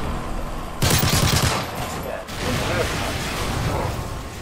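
Gunfire in Modern Warfare 3 shooting down a rocket: a loud burst of rapid shots with a rushing blast, then fading noise, with voices talking over it.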